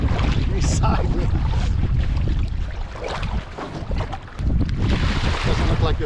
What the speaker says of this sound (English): Oh, that wind's blowing. Sideways.